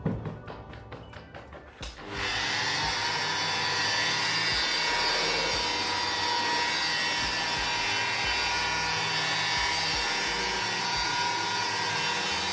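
A Toyota Starlet wing panel is polished with G3 compound: a few light taps, then a machine polisher starts and holds a loud, steady, close whirring drone against the panel throughout.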